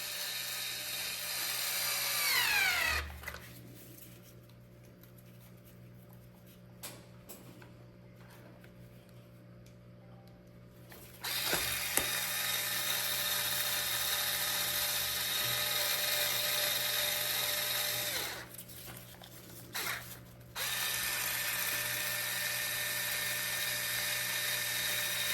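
A power driver runs the last screws into an RC car with a 12S power system during a differential repair: a high whine spins up, stops, then returns in two more long bursts, loud and close, without speech.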